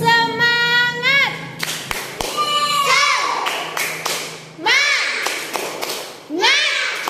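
A classroom of children performs a rhythmic spirit clap, chanting loudly in unison while sharp hand claps punch through between the shouted calls.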